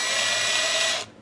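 A handheld power drill, fitted with a bit for putting up garage shelving, spins steadily at high speed for about a second and then stops. The whine is loud and close, with no talking.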